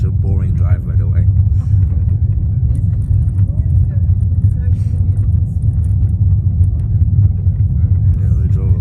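A car cruising along a road heard from inside the cabin: a loud, constant low engine and road rumble throughout, with faint voices briefly over it near the start and end.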